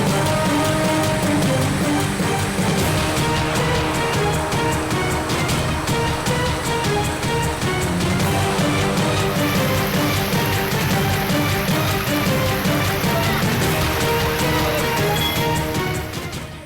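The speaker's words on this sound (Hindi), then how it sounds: "उधर पाली में देर रात मूसलाधार बारिश हुई है।" Heavy late-night downpour in Pali, India, drumming steadily and loudly on surfaces throughout, with a dense continuous patter and no voices.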